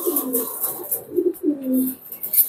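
A Teddy pigeon, a high-flying breed, coos nearby in soft, low, throaty rolling phrases, several short coos in close succession with brief pauses.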